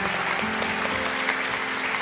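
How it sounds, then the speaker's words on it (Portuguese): Audience applause for a couple, Rafael and Fernanda Carrilho, at a church mission gathering: a dense, steady wash of many hands clapping at moderate distance, continuous and even throughout without any talk over it. "Uma salva de palmas para eles."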